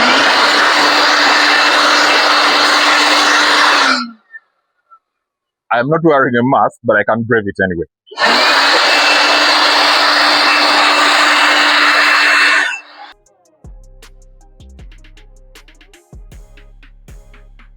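A loud air blower roars steadily while blasting dust out of a car's engine bay, cutting off twice, with someone talking during the pause before the blower starts up again.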